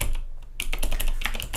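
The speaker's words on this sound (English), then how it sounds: "because if I were to type in" Rapid keystrokes on a computer keyboard while typing into a spreadsheet cell, a brief pause and then a dense run of close, crisp clicks.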